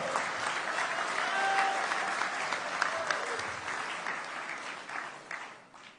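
A crowd at a Barisan Nasional political rally in Melaka bursts into sustained applause, a dense wash of clapping that holds steady and fades toward the end, with faint voices mixed in.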